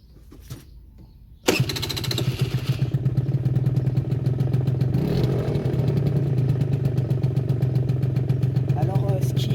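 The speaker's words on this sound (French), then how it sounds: "nous allons écouter le bruit du deux temps de ce scooter 50 Fly" A Piaggio Fly 50cc two-stroke scooter engine sputters to life after a quiet moment, then runs steadily with a loud, buzzing, rattling idle up close.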